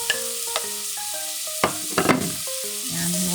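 Garlic and onion sizzle and crackle in a little oil in a pan, with clinks and scrapes of a spatula breaking up the steady frying hiss, close and clear with no talk.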